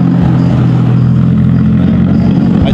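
A Toyota Supra's 2JZ engine holds a loud, steady rev on a dyno with anti-lag raising the RPM, a dense, continuous roar.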